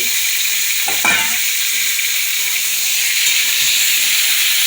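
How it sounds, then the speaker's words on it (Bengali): Pointed gourd and eggs fry side by side in two pans for a home anniversary meal, giving a loud, steady hiss and sizzle throughout, broken once by a brief utensil knock. "এধারে পটল ভাজা হচ্ছে আর এধারে ডিম ভাজা হচ্ছে"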